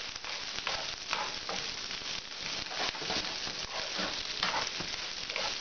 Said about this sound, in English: saute our rice, fry our rice for a little while